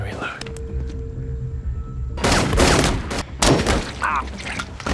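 Gunfire from an action movie scene starts after a quieter stretch with a few clicks, then breaks into loud, dense bursts of shots with brief gaps between volleys. Voices can be heard faintly in the mix.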